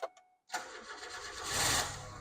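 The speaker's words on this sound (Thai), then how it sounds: "เดี๋ยวผมขอลองสตาร์ทเครื่องหน่อยนะ" A KIA 4WD running on petrol and CNG is started: a short cranking burst, a pause, then the engine catches and settles into a rising, fairly loud idle.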